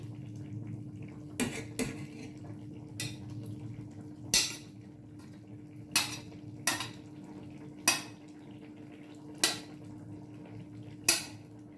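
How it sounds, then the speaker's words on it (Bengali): Potatoes are cut and smashed against a metal pot or plate while making a curry, sharp clinking taps arriving one by one at irregular intervals over a low steady hum, with no talk. "এইভাবে কেটে আলুটা একটু স্ম্যাশ করে আমি আবার তরকারির মধ্যে দিয়ে দেব"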